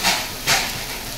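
Small fish frying in a pan with a little oil, along with onion and fresh green chilli, give off a steady close hiss with faint crackle and two brief louder sizzling bursts.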